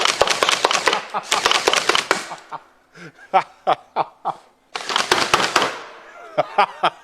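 A homemade full-automatic crossbow built with metal parts fires in fast rattling bursts of sharp snapping shots, then a run of separate, evenly spaced clacks, then another rapid burst; close and loud.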